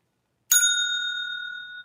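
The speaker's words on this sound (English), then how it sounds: "There's the bell." A single bright bell struck once to end trivia answer time, a clean metallic ding that rings on with a long, slowly fading tone, close and alone in silence.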